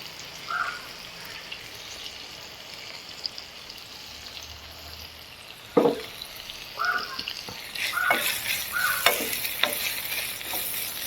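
About 100 grams of dried shrimp going into a pan to fry: a quiet start broken by a few sharp scrapes and clinks, then a sizzle that builds and stays crackling over the last few seconds.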